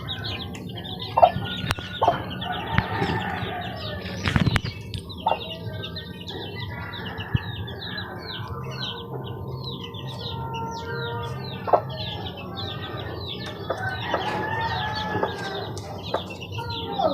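A mother hen clucking among her chicks, with soft repeated clucks mixed with many high, rapid chick peeps throughout, plus a few sharper knocks, close and steady with no talk.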